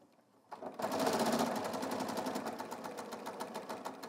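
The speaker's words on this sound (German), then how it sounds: "Wir lassen einfach die Nähmaschine ein bisschen auslaufen" Domestic sewing machine stitching a dart on a dress, starting after a brief quiet moment, then a fast, steady needle chatter that slowly eases off, close and alone.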